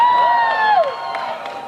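An awards-show crowd in a building cheers and whoops loudly in a short burst, with one high shouting voice standing out above the noise.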